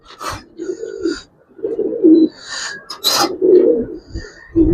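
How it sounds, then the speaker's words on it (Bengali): A flying pigeon of the Giribaz breed coos up close in several distinct bursts, deep rolling calls separated by short pauses, loud and alone without talk. "এটা আমার বাসা উড়ানো কবুতর ভাই।"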